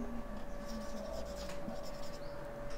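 A pen or marker scratches steadily across a board or page while a grammar formula is written out, a soft continuous scrawl under a low steady hum.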